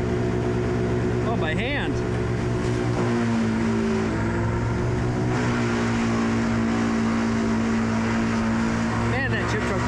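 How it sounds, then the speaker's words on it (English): Wood chipper running on a tall Douglas fir tree removal job, a steady loud mechanical drone with tonal engine hum, brief squealing surges, and someone speaking briefly over it. "Randy, turn on the chipper."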